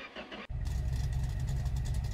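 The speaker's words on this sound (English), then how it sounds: "That is the sound of a very fresh 380 cubic inch V8." A freshly built 380 cubic inch V8 in the video game My Garage cranks briefly, then catches and settles into a loud, steady, rumbling idle close by.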